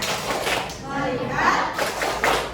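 A class of sixth-grade students performs the 'tepuk fokus' focus clap together, a dense, slightly uneven burst of claps mixed with their group chanting voices in a busy classroom.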